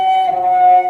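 A single cello note is played with the left-hand fingers not pressed down firmly, producing a steady, somewhat buzzy sustained tone, close and loud, with no voices.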